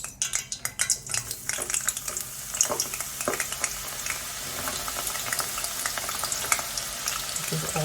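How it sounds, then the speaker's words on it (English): Chopped onions frying in a pan for a pepper sauce with dried anchovies, a steady sizzle broken by repeated clinks and scrapes of a utensil stirring against the pan, close and alone. "Then add in the chopped onions and allow to fry for 10 minutes."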